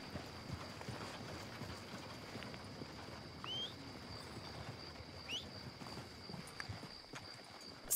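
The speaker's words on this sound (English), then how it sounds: "It's the only downside about up here, the horses run when you call them." Horse hooves clip-clop faintly in a Western frontier roleplay game, a soft steady patter low in a busy ambient bed with occasional bird-like chirps.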